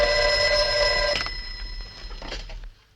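A telephone bell rings in a room in a 1962 television drama, one loud, sustained ring that sounds for about a second, then fades into a fainter continuation and cuts off.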